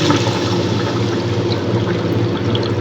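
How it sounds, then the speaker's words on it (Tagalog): Cooking broth poured into a hot frying pan of fried goat meat gives a steady, close, continuous rushing hiss and pour of liquid, loud and unbroken with no talk. "Busan natin ng pinagkuluan."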